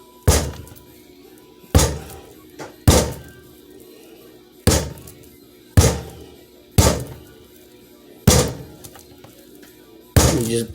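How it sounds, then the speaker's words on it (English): A homemade bar of soap is banged hard on a solid counter over and over, making loud, sharp thunks about once a second with short pauses between them, and nothing else is heard. "You just bang it on the counter or the table, whichever has got a more solid surface to it."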